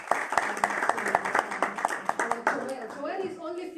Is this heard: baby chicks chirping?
no